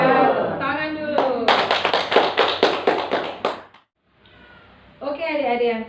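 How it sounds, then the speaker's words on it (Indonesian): Children clapping hands together at a Sunday school session, a burst of about a dozen quick, close claps lasting roughly two seconds between stretches of talk, followed by a short quiet pause before speech resumes. "Ya, tepuk tangan dulu."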